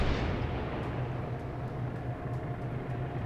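Destroyer Farragut's naval gunfire striking a Minekaze in World of Warships: a sustained low rumble of distant artillery with a few faint sharp reports over a steady roar.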